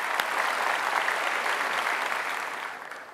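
A studio audience on an Indonesian talk show applauds two members of a Jakarta band, a dense, even burst of clapping that holds steady and then fades.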